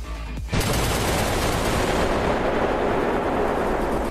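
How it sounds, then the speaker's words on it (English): A titan in the game Super Toilet Brawl unleashes all eleven blasters at once: a sudden onset into a dense, continuous roaring barrage of overlapping shots, loud and sustained, no voices. "Dude literally shoots with all 11 blasters"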